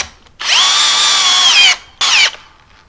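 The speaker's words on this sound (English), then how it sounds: "I'm going to try my drill." A power drill driving screws into wood whines loudly in a long steady burst, stops, then runs again in a second shorter burst, close by with no talking.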